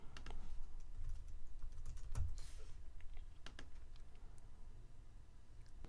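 A computer keyboard is typed on in quick, irregular bursts of light clicking keystrokes, close and fairly quiet, with no voices.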